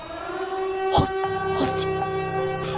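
A loud electronic siren tone from the Siren Head horror video game holds steady with layered harmonics, interrupted by a couple of sharp bursts and crackles.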